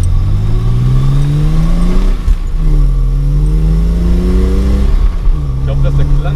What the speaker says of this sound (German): Ich hoffe, dass der Klang von dem Auto schön rüberkommt